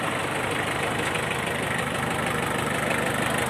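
A Japanese Mitsubishi MT1801 mini tractor with a rotary tiller attachment idles steadily up close, a continuous even engine rumble with a faint knocking texture and no talk throughout.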